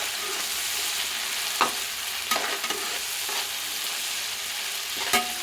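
Three spoons of fresh ginger garlic paste fry in a pan for prawn masala curry, giving a steady, close sizzle broken by occasional scraping stirs.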